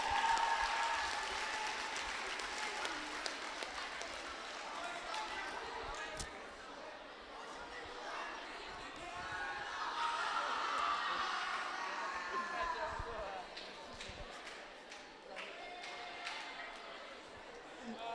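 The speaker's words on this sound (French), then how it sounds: "On applaudit nos cadets." A crowd applauds young cadet runners after a 4 km race at a school sports event. The steady clapping and cheering lasts throughout, with an announcer speaking over it.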